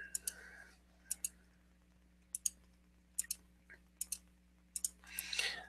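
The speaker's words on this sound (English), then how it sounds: "we will just discard our cards here" Playing cards are discarded and drawn in a card game, producing soft paired clicks and slaps at a steady pace, ending in a brief shuffling rustle, close and quiet.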